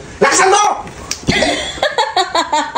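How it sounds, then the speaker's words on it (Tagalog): A sharp, loud slap lands during a playful scene, followed by laughter and lively talk. "Ayusin mo yung talagang sampal."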